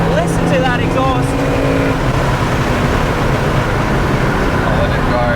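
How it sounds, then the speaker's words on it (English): A 1992 BMW M3 fitted with an Akrapovic exhaust pulls away, its engine roaring loud and near in a dense, steady blare, with voices heard briefly at the start. "The 92 M3 is moving. Listen to that exhaust."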